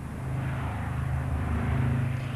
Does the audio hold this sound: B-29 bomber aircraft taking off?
yes